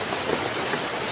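Rain falls steadily outdoors during a wet day, a dense, even hiss of drops with no breaks and no voices over it across the short stretch.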